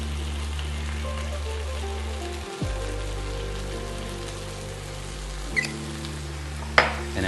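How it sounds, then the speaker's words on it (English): Beef strips sizzle and spit in a hot pan as rice wine hits it, a steady crackling hiss that runs throughout with a few sharper pops near the end. "All I'm going to do right now is actually deglaze it with a little bit of rice wine."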